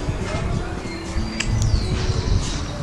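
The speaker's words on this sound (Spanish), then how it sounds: "Se escuchan los pajaritos acá." Birds chirp and tweet faintly amid outdoor background rumble in a quiet residential neighbourhood, with a few short calls scattered over the noise.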